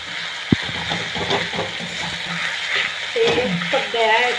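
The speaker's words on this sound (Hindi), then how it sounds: "ये प्याज डाल दिया, प्याज भून रहे हैं अच्छे से।" Onion and tomato fry in a pan with a steady soft sizzle and occasional stirring clatter, while people talk over it.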